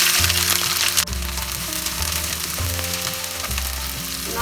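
Onion and whole garam masala fry in hot oil for a rich mutton chop masala, a loud, dense sizzle with crackling and spattering that continues steadily throughout, close up.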